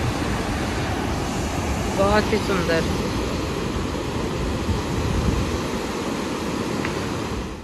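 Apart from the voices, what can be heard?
water rushing out through open Maithon Dam gates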